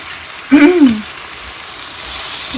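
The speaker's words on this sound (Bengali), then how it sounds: "এখন একটু একসাথে ভেজে নেব চিংড়ি মাছ" Small chopped shrimp with salt and turmeric fry in a pan, giving a steady soft sizzling hiss throughout, with a brief voice-like sound early on.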